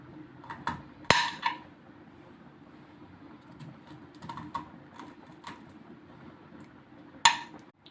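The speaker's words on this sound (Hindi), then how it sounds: "ये गोभी चॉप कर लिया" Cauliflower being chopped for kababs, heard as sparse, light knife taps and clicks on a board with a few sharper knocks, close and quiet against a low steady hum.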